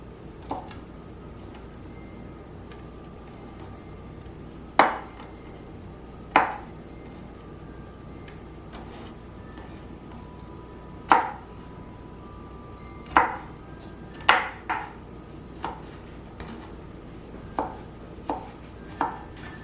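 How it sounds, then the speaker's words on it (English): A knife rough-chops garlic cloves on a cutting board, giving a series of distinct sharp knocks spaced irregularly, close and fairly loud over quiet background. "And I just chop the garlic up, just a rough chop, not real fine, but just nice little chunks."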